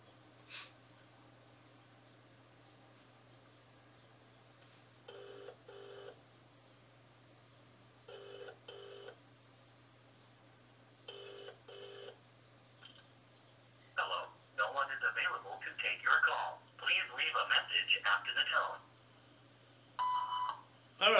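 A telephone call rings out in repeated paired ring bursts at steady intervals, followed by a busier stretch of tones and someone speaking over the line.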